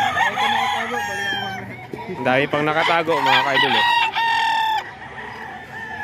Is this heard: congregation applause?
no